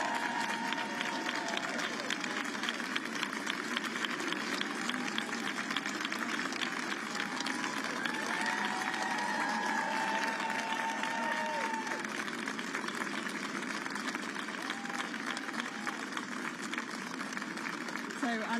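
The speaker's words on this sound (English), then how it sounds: "Here he is, you can hear the applause" A crowd of supporters applauds and cheers as Andy Burnham steps out of a car, a continuous dense roar of clapping and voices outdoors, with people talking throughout.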